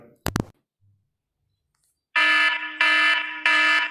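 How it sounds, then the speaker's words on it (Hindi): A custom alarm ringtone on a phone opens with a couple of sharp clicks, then after a short silence sounds three loud, evenly spaced tonal bursts. "ये हमारा जो रिंगटोन बनके तैयार हो चुका है, यहाँ पर हम प्ले करके इसको सुन सकते हैं।"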